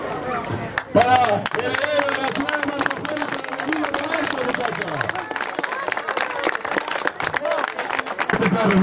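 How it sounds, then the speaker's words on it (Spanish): Crowd applause and clapping for greyhound race winners at a dog racing event in Tornquist, a lively patter of hands mixed with crowd chatter, while someone speaks loudly over it throughout. "Un fuerte aplauso, muchachos"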